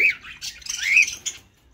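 A cockatiel gives loud, close, harsh squawks in a short burst of raspy calls, with no talking.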